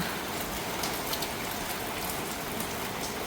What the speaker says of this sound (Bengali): বৃষ্টি হচ্ছে চলো তো দেখি